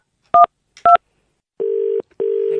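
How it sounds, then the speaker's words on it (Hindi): Telephone keypad tones as a number is dialed: two short crisp DTMF beeps followed by two longer steady tones, loud and isolated against silence. "नंबर डायल करते हैं।"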